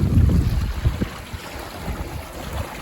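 Wind blowing steadily around a 20 foot trailer sailer out on the North Sea, a low rushing roar with gusts and buffeting against the microphone, mixed with water movement close by.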